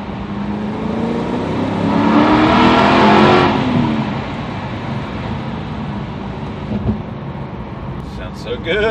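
A car roars past, swelling loudly and then fading into a steady rumble of traffic, with a faint voice in the background.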